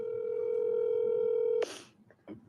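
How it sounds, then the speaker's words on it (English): A telephone dial tone holds steady and clear for about a second and a half as a call is placed, then cuts off into a brief burst of noise followed by a couple of faint clicks. "Let me see if I can get Deboraugh on the phone"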